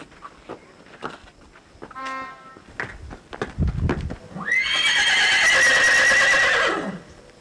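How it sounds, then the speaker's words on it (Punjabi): A mare neighs loudly in a long, drawn-out whinny near the end, preceded by scattered hoof clops, shuffling and a few short snorts in a rural horse-selling yard, with no talk. "ਘੋੜੀ ਮਾਸ਼ਾਅੱਲਾ ਅਵੈਸ ਭਾਈ ਤਿਆਰ ਕਰ ਰਹੇ ਨੇ"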